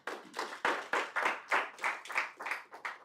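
A small audience at a business investment masterclass in Doha claps in a loose rhythmic pattern, about ten distinct bursts of hands over a few seconds, close and fairly soft.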